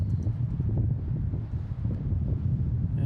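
Steady wind buffets the microphone at Boston Logan International Airport with a low, rough rumble that continues throughout, loud and close, with no voices.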